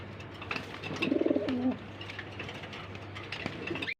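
Pigeons, including a raced Kaldom cock and a Jira-necked hen, give one close, low, throaty coo with a quick rolling pulse, set against a steady hum and scattered small noises.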